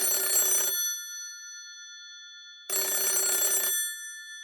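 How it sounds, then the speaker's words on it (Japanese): A telephone booth bell rings close by in two long, bright, shrill bursts separated by a silent pause. "するといきなりすぐそばの電話ボックスが"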